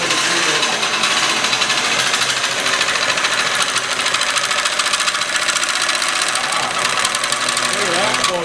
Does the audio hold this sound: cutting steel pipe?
yes